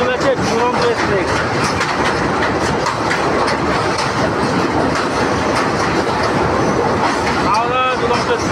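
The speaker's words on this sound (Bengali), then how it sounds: "দারুণ দুরন্ত এক্সপ্রেস দেখতে পাচ্ছ আমাদের সামনে দিয়ে চলে যাচ্ছে দুরন্ত এক্সপ্রেস" The Howrah Duronto Express thunders past close by, with loud continuous rumbling and clickety-clack of wheels over rail joints, plus a brief screech of wheels near the end and faint background chatter.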